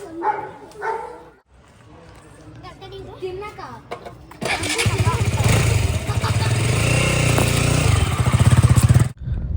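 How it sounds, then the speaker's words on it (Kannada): A motorcycle that has just been given a Diwali vehicle puja starts up and pulls away onto a quiet Bangalore road, its engine roar rising loud and steady under wind noise. Talk and other sounds come before it. "ಗಾಡಿ ಮೂವ್ ಮಾಡ್ತೀನಿ ಗಾಯ್ಸ್"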